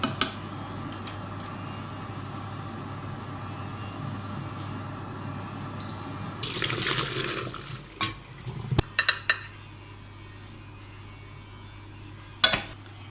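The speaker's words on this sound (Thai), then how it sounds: "เดี๋ยวเราจะเทน้ำออกเนาะ" Water poured out of a container of freshly picked wild mushrooms while cleaning them outdoors, a brief splashing rush after steady ambient noise, followed by a few clinks and knocks of a pot or dish.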